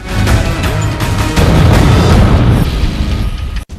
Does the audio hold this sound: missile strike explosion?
yes